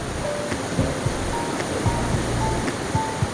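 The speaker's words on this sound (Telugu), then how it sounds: "జలపాతం సౌండ్, కిందికి వచ్చేసరికి పిట్టలు పిచ్చుకలు ఇవన్నీ ఉన్నాయి" The Poler Waterfalls roar as a steady, dense rush of falling water, close and even, with faint bird chirps scattered over the top.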